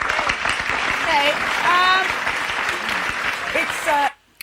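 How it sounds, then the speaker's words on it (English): Studio audience on a TV talk show bursting into applause, a loud, steady patter of many hands heard together with a speaking voice, then cutting off abruptly near the end. "So what are they clapping for?"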